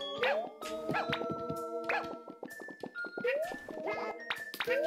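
Cartoonish dog barks and yips from Yoshi's Crafted World sound in quick bursts amid bouncy musical game effects and chimes, lively and fairly close.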